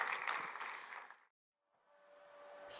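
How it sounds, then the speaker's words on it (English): An audience claps in a burst of applause that stops abruptly, followed by a quiet hum and faint room noise. "Give her a round of applause."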